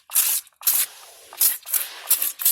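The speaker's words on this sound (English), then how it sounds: "spray that on the inside there" Foaming wheel cleaner sprayed onto the inside of a car wheel in several sharp hissing bursts, each followed by a softer fizzing of foam, close and loud.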